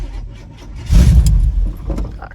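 Chevrolet C10 pickup with a cammed 357 small-block and big carburetor pulling away, a short burst of deep, loud engine rumble rising after a quieter idle.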